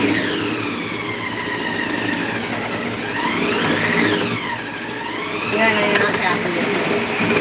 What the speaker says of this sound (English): This food processor has been with us for a couple of years now.